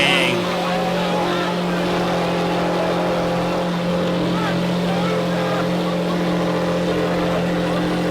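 A golf cart's engine runs loud and steady, a constant close-up drone with little change in pitch, while voices are faintly heard over it.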